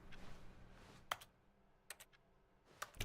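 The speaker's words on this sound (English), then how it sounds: "All the clicking noises are like computer noises. Or like keyboard noises." Keyboard clicking in the video game The Stanley Parable: a few sparse, crisp key taps spaced apart over a faint, quiet room tone.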